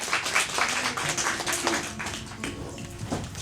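Audience at a Korean talk event claps to welcome a speaker to the stage: a moderate, close patter of hand claps with a few sharper strikes, fading slightly toward the end.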